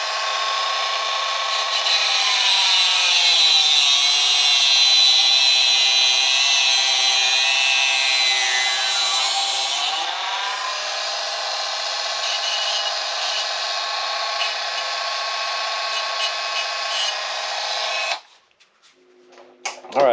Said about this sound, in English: Get off any burrs on the edges.